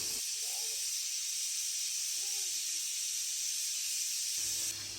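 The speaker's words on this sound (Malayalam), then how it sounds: "ഇനി ഇത് സ്റ്റൗവിൽ വെച്ചിട്ട് മീഡിയം ഫ്ലെയിമിൽ മൂന്ന് നാല് വിസിൽ വേവിച്ചെടുക്കുക" A pressure cooker holding vegetable kurma made without coconut sits on a stove over a medium flame, letting out a steady, loud hiss of escaping steam that holds for about five seconds and then cuts off.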